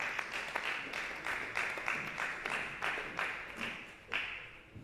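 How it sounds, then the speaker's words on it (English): Faint, distant clapping with soft irregular taps and thuds, a small group applauding at a modest level. "with a round of applause"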